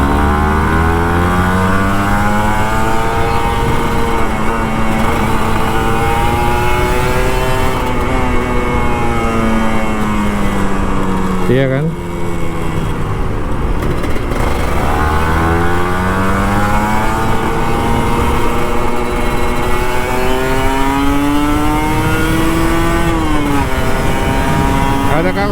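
A Kawasaki Ninja RR two-stroke motorcycle engine revs loudly and continuously up close, its pitch rising and falling through repeated throttle sweeps, with a brief voice over the engine.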